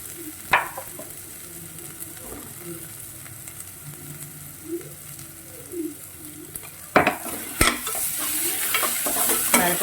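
Food sautéing gently in a pan on low heat while cooking a pongal lunch: a soft continuous sizzle with occasional stirring scrapes and a couple of sharp utensil knocks, birds faintly calling in the background.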